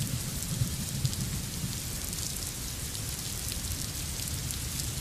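Heavy monsoon rain pours down in Mumbai as a dense, unbroken hiss and roar that stays loud and even throughout, with no voices.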